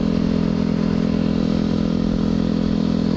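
A motorcycle cruising steadily in cold weather, its engine giving a constant, loud droning hum with wind rush and no change in pace, no voices heard.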